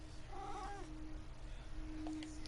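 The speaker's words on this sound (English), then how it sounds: "Hello, little kitty." A small cat meows a few times, a short wavering call near the start and a fainter one toward the end, over a steady low background hum.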